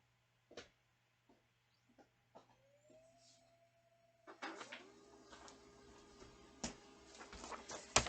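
A printer prints a shipping label, with a few isolated clicks first, then a whirring motor tone and a rising mechanical chatter of feeding and printing, fairly close and moderately quiet.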